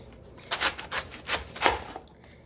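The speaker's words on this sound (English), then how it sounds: "We are going to start off by slicing our cabbage." A knife slices through half a cabbage for a Ghanaian three-vegetable stew, giving four crisp, close cuts about half a second apart, each a short bright crunch with quiet pauses between.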